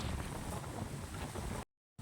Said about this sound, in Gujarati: પવન બહુ સારો હે